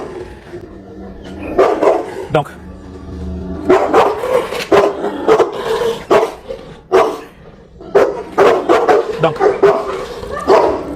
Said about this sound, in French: vous voyez comment est-ce qu'il aboie